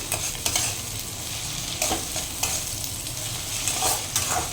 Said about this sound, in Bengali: হাই ফ্লেম করেই ভাজতে হবে এখানে আমি টমেটোটা আর কাঁচা লঙ্কাটা দিয়ে নিলাম